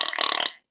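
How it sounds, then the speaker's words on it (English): A single drawn-out burp, loud and close, rumbling steadily for about half a second before cutting off into silence. "And that's why we're burping."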